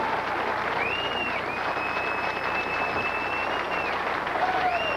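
A packed arena crowd gives a standing ovation at the final match of the 1995 PBA Ebonite Kentucky Classic bowling tournament, with loud, sustained, even applause filling the whole stretch and a thin tone sounding above it.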